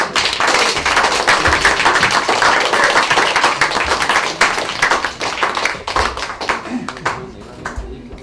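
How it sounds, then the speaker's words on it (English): An audience applauds after a presentation with steady, close, crisp hand clapping that runs for several seconds before thinning out into scattered claps. "Please show your applause."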